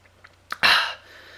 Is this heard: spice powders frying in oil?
no